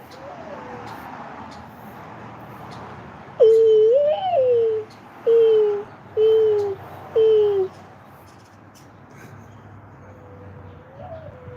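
Doves coo outdoors in the morning, a series of four or five clear hooting coos in steady rhythm, close and prominent over a low background hum, then a fainter single coo later.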